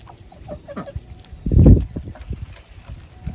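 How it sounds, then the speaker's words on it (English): Farm fowl, likely ducks, quack and cluck near the coop on a cold icy day after an ice storm, with a short series of calls and a louder close burst midway amid light shuffling. "Ducks."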